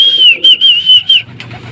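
Racing pigeon arriving during a north sprint race, heard as a loud, close series of clear high whistling chirps in short repeated bursts, followed by a lower, softer rustle.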